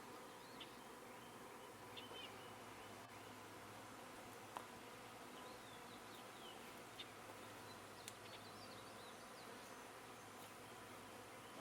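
Honey bees buzz around a newly installed hive following their queen, a faint, continuous, even drone with a few small ticks and rustles and no voices.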